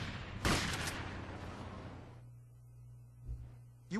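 A shotgun fires in GTA Vice City Stories on the PSP: one loud, sharp blast near the start fades into a quiet tail, then a softer thump and another sharp hit come near the end.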